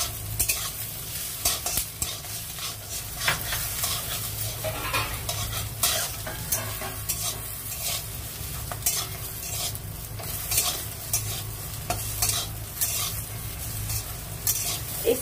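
Sago and sweet potato stir-fried together in a pan for sabudana kheer, with constant close spatula stirring and scraping over a continuous sizzle throughout and no speech.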